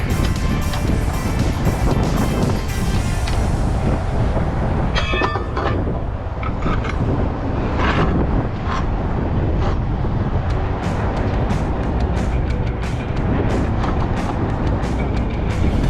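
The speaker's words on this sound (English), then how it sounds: "That freaking wind ain't no joke." Strong wind roars steadily and loudly around a truck at a loading area. The sound is a dense, unbroken rumble with some rattling and clanking from the vehicle mixed in, and no voice is heard.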